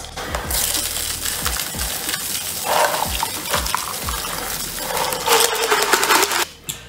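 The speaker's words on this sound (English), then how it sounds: "Double strain to our glass." A rum grog cocktail is double strained into a glass, a close, continuous wash of liquid and ice clinking against metal and glass, with scattered sharp ticks.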